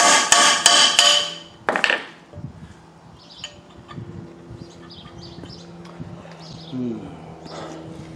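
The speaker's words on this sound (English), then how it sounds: "We'll try hitting it with a hammer here and get it." A hammer strikes a rear wheel bearing in a Ford Explorer knuckle, with several sharp, loud metallic blows in quick succession at the start, then a last hit. Quiet shop sounds follow.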